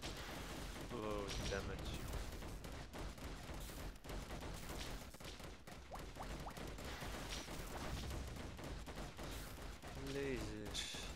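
Heavy weapons fire in the game Defend Your Life, a steady barrage of booming shots and impacts under game music, with someone talking briefly over it.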